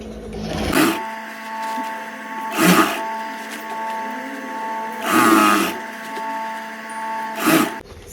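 Sewing machine stitching stretched palazzo pant fabric, running in four short bursts of a few seconds each with a steady motor hum in between, close and loud, no talk.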